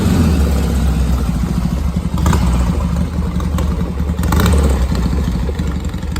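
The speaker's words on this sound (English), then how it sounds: "There's nothing quite like the roar of a Norton engine heating up." A Norton motorcycle engine warming up runs loud and close, a rough rumbling idle with slight rises in revs throughout.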